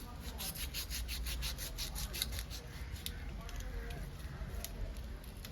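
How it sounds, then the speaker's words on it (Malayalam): A sharp kitchen knife scrapes repeatedly along both sides of a whole tuna (choora) being cleaned for a Kerala-style curry, giving close, steady rasping strokes with faint talk underneath. "ഇത് രണ്ട് വശവും ചെത്തിയിട്ട് നമുക്ക് നന്നായിട്ട് പൊളിച്ചു കൊടുക്കാം"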